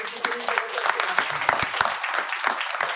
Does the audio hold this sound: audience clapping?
yes